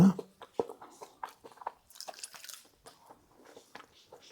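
Crisp crunching bites chewed close up, a steady run of short crackly snaps with no talking.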